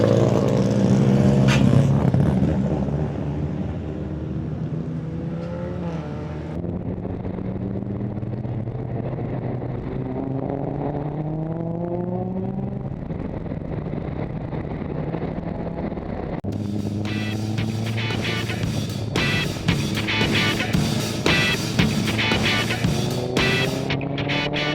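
Race cars at Edmonton Speedway roar off the start together, loud engines rising in pitch through repeated upshifts, with a sharp burst of extra engine noise near the end and wind buffeting the microphone.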